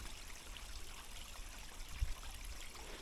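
Water drains through pipes at a forest beaver dam, a steady, low rushing and gurgling flow, faint and continuous with no voices.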